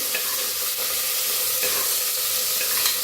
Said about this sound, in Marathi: घालूया कुटून घेतलेला लसूण आणि अर्धा चमचा अद्रकची पेस्ट घालून भाजून घेऊया